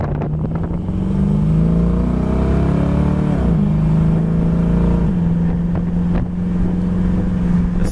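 A 1968 Chevy Camaro convertible idling with a steady low engine drone, close and loud, with a brief rise and dip in pitch partway through and faint clicks, no voices.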